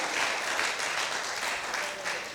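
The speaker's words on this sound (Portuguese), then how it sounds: "É uma salva de palmas aqui ao Diogo e à Ana, que foram uma bênção" A congregation at a church service claps together in a sustained round of applause, a dense, even patter of many hands filling the room for a couple of seconds with no break.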